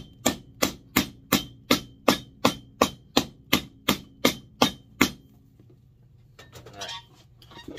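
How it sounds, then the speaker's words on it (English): A hammer drives a heel onto a Danner boot being converted from stitch-down to Goodyear welt construction, fifteen sharp evenly spaced blows ringing out close and loud, followed by quieter handling and rustling. "now that we've got that hammered on"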